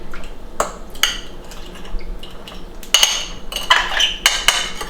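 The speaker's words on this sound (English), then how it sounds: "I'm going to kind of just mash it around with a fork a little bit" A fork mashes compressed yeast with a little sugar in a bowl, making close, sharp metallic clinks and scrapes in uneven bursts, busier toward the end, with no talking.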